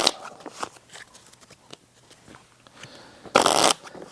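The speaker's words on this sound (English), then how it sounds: "Go ahead and shuffle." Cards being shuffled for a solo game of the tabletop board game Fliptown: a short, loud riffling burst near the end, after a stretch of faint handling clicks and soft rustles.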